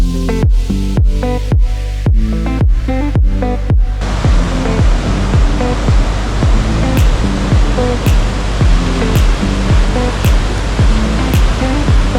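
Aira Force waterfall in the Lake District gives a loud, steady rushing roar of falling water. Soft, regular thumps sound under it throughout, with no voices.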